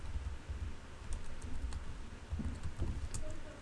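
Computer keyboard typing, a quick run of soft key clicks over a low steady background hum, close and fairly faint.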